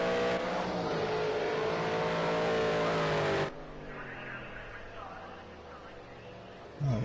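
Race cars lapping Ruapuna Park in Canterbury on a damp, drying track, a loud engine drone with shifting revs dominating at first, then dropping to a quieter, more distant roar before another car swells close at the end.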